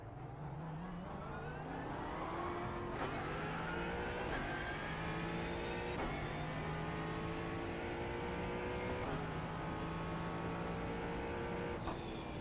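A GT3 race car at Laguna Seca in a racing video game revs steadily through several upshifts, the engine note climbing and dropping back at each gear change. It is moderately quiet, with no talking.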